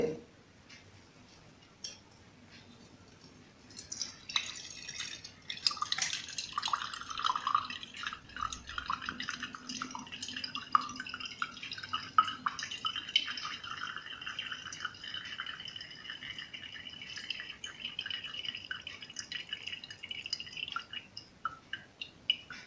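Herbal hair oil dripping steadily through a strainer, a run of soft, close liquid drips and trickles that goes on without a break, with faint movement noises and no talking.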